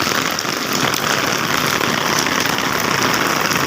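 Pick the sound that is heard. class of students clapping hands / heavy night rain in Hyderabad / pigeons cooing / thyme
heavy night rain in Hyderabad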